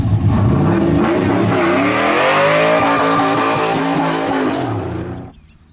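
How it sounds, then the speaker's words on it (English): A Chevrolet Silverado with a cammed LS1 engine and T56 transmission revs loud and close, its engine note climbing and falling steadily before cutting off abruptly near the end. "Silverado with a cammed LS1 and T56."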